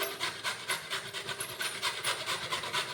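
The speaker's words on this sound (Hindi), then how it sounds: "मीडियम वाली जाली से हम गोभी को कद्दूकस कर लेंगे" Cauliflower, stalk included, rubbed against the medium holes of a kitchen grater, giving steady rhythmic rasping strokes about four per second, close and fairly loud with no voices.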